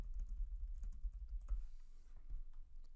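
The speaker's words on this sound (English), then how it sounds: "I'm going to type in the name" Fingers typing on a computer keyboard, a close, quick patter of soft key taps in an irregular rhythm, with a short burst of faster clicks near the middle and no talking.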